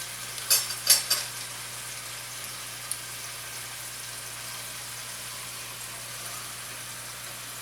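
Pizza-stuffed chicken fries in a pan with a steady, close sizzle throughout, and a few clinks of a utensil near the start.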